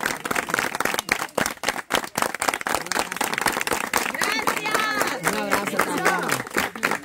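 A small group claps briefly and sporadically at an outdoor charity food-basket handout, then voices and cheerful Spanish chatter take over near the end.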